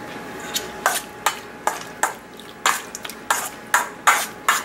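Chopped cilantro being mixed into tuna poke, heard as a series of soft, wet stirring and tapping strokes at an irregular rhythm, close up and fairly quiet, with no talking.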